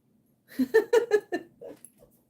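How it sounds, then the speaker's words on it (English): A nosy dog makes a short burst of close, breathy whining huffs, about six quick sounds in a row before fading into quiet. "you're ready to replace your cats with a nosy dog?"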